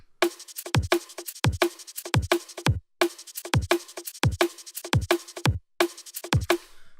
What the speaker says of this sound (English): So the Serum parts on their own sound like this.